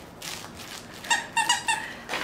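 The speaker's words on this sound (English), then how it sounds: "this is the Licorice Crinkle Classic Squeaker with a T-shirt rope. So yeah, it's squeaky." A licorice-shaped crinkle classic squeaker dog toy with a T-shirt rope is squeezed, giving several sharp, close, high squeaks in quick succession, with rustling between them.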